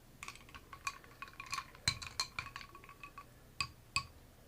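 A spoon stirs a Crown Royal Regal Apple Tea cocktail with Coke or Sprite in a glass, producing a series of faint, irregular clinks and taps of metal against glass.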